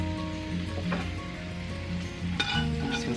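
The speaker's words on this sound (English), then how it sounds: "There, it's starting to sizzle." Seasoned chicken pieces sizzle in a hot pan with a steady hiss and crackle, plus a few light clinks from a utensil, heard close in a home kitchen.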